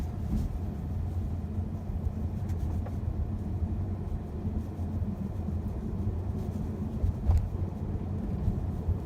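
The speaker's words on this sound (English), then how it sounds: "we're going to do a quick little test drive on the 2018 Ford C-Max" Steady low road rumble inside a 2018 Ford C-Max hybrid driving in EV mode, a continuous muffled drone with tire and wind noise and no engine note, constant loudness throughout.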